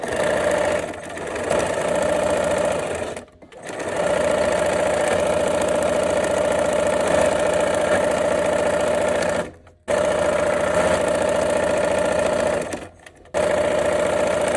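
A sewing machine runs steadily, stitching fabric seams in long continuous bursts with three brief pauses, loud and close with no voices.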